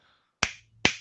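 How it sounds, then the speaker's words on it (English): Two crisp finger snaps, close and loud, about half a second apart, each a sharp isolated crack with a short ring-off and near silence before the first. "That finger snap you do a lot."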